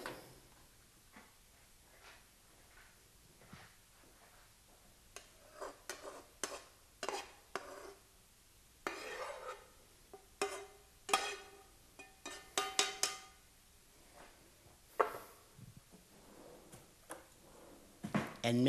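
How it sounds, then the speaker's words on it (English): Meat being added to a cheese dip and stirred in a pot: a spoon makes irregular scraping and tapping knocks against the pot, some sharp and close, with quiet gaps between bursts and no talking. "Now it's time to add our meat to our cheese dip."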